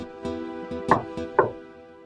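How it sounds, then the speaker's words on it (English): Someone knocks on a house door in an animated fairy-tale cartoon. There are two sharp, close knocks on wood over a sustained musical tone, and no one speaks. "As soon as she left, he knocked on their door."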